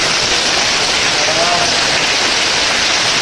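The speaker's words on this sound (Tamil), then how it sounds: "ஃபுல்லாக மழை பெய்யுது." Heavy rain pours down in a dense, unbroken roaring hiss. It is loud and constant from start to finish.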